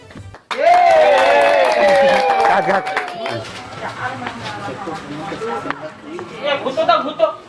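A theatre audience at a comedy fashion show applauds the judges. A loud burst with high, sweeping tonal sounds comes first, then the clapping fades and grows uneven beneath voices.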